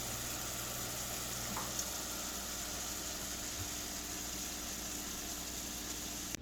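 Sugar caramelizing for flan in a pan gently swirled by its handle rather than stirred, giving a steady, even sizzling hiss that runs unbroken throughout at moderate level, with no voices.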